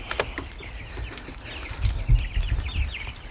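Chicks in a brooder under a heat lamp chirp and peep busily at close range, with soft fluttering and rustling underneath.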